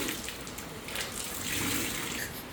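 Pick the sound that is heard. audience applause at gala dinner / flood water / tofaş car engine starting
flood water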